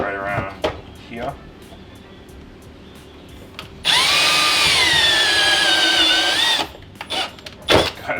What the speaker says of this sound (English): Honestly, I'm just going to use the step bits.